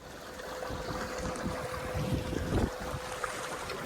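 A skiff with an electric outboard motor runs at about 55% throttle near 500 watts, cruising around 6.5 mph: a steady motor hum with a faint whine under constant wind and water rush, no talking.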